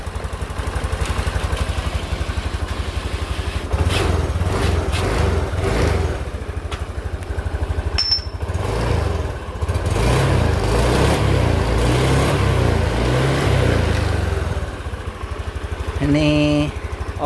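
A 2020 Honda Beat scooter engine, fresh from a TPS sensor replacement and with a fault of oil spraying into the air filter, idles with a steady close putter and rises in a few mild revs, with no talk over it.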